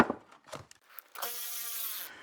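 Bolt on a 1978 Silver Anniversary Corvette crossmember bushing being tightened with a torque wrench: a few short metallic clicks and scrapes, then a sustained bright grinding rasp for about a second, close and fairly quiet.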